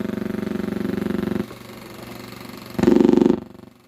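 A person imitates a motorboat engine with a low, steady buzzing drone, stops briefly, then makes a louder, rougher burst of the same noise before falling quiet.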